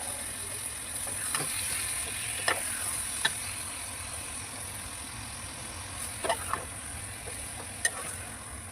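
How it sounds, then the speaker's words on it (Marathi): Prawns and chopped potato fry in a roasted Konkani-style masala with coriander, giving a steady close sizzle with a few sharp clinks and scrapes of stirring scattered throughout. "आणि आता टाकूया आपण कोळंबी आणि बटाटा चिरून घातला त्याच्यामध्ये."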